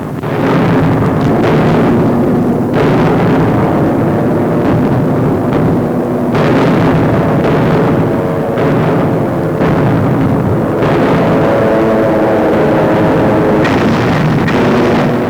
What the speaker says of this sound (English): From the sky, American and RAF bombers blast the enemy across a 40-mile front, unleashing tons of high explosive on Rommel's surprised and reeling Africa Cor